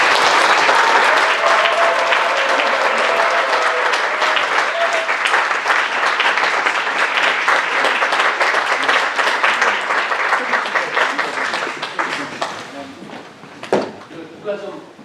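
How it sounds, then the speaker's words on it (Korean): Loud, sustained applause from a seminar audience of pastors at Jeonju Saesomang Church welcoming missionary Michael Cho, dense steady clapping over some fifteen seconds with voices mixed in, tapering near the end. "자, 우리 마이클 조 선교사님 우리 박수로 환영하겠습니다."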